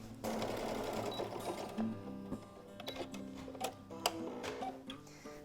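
A sewing machine stitches steadily along a denim edge while a slate sleeve is made from old jeans, a close mechanical whir with ticking needle strikes that stops and restarts in short bursts.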